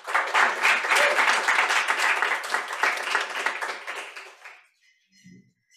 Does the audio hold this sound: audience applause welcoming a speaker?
yes